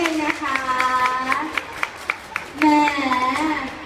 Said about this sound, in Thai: ปรบมือให้ชนิดนึงนะคะ